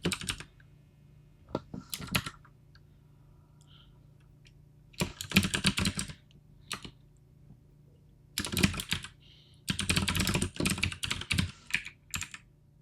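Someone types on a computer keyboard in several clustered bursts of rapid clicking keys separated by quiet pauses, close and clear with no talking.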